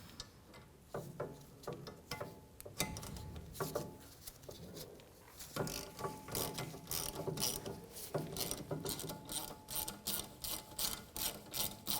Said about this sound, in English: We're going to undo the bolt on the bracket and just move them up out of the way. We're going to use a 5/16 socket.